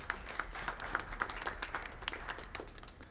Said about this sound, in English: let's give a round of applause for everybody for those honors